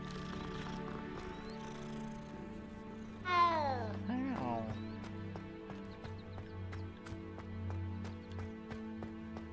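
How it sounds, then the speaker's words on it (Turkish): A cat meows once, then gives a shorter second call, in the video game Hogwarts Legacy, with looping game music and soft hoof-like clopping running steadily beneath. "Bu başka kedi."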